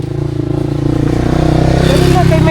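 A motorcycle engine runs nearby with a steady harmonic drone that rises slightly in pitch toward the end, loud and continuous under faint background voices.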